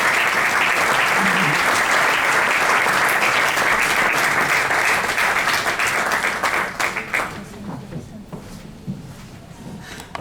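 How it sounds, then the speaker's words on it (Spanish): Audience applause welcomes a speaker onto the stage at a book presentation, a dense, loud ovation that holds for several seconds, then thins into scattered claps and fades out. "fuerte el aplauso para recibir sobre este escenario a Agustín Carbonell El Bola"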